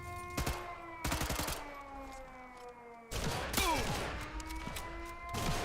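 A few sharp pistol shots crack out in quick clusters in Sniper Elite 5, fairly quiet, set against sustained tonal game music and effects.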